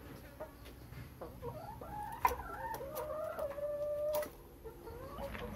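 Laying hens clucking at evening feeding time, scattered close clucks and drawn-out squawks rising and falling over soft background noise, with one sharp bright call in the middle.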